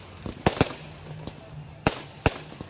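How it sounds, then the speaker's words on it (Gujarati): Firecrackers burst during a cricket World Cup final celebration. Several sharp bangs come in irregular succession, some in quick pairs, with faint background noise between them. "તો ભાઈઓ ફટાકડા શરૂ થઈ ગયા છે અત્યારે."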